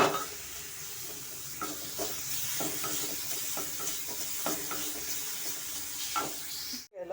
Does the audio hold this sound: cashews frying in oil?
yes